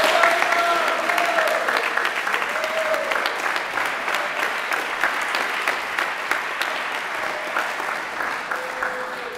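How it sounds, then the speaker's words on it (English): A crowd at a Beta Club induction ceremony for military academy cadets claps steadily and warmly, dense applause sustained for several seconds, with a few brief whistles or cheers rising over it. "Please give a round of applause to celebrate these cadets' accomplishments."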